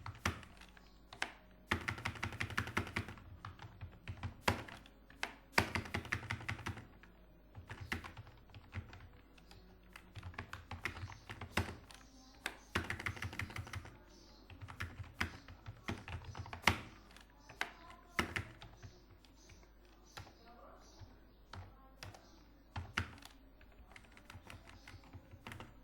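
Computer keyboard typing for Urdu text in InPage: steady rapid clatter of key presses in bursts with brief pauses, close and alone without talk.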